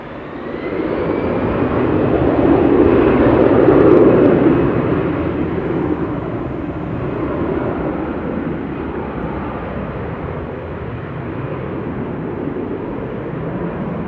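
An EasyJet Airbus A320 Classic departs Manchester Airport for Amsterdam, a broad, loud jet engine roar swelling to a peak after a few seconds, then holding as a steady rumbling wash fading slightly with distance.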